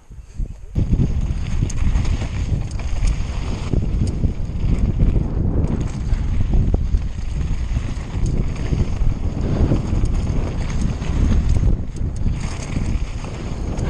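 Strong wind buffets the microphone outdoors at the Crans Montana bike park, a continuous loud rumbling roar that gusts unevenly throughout.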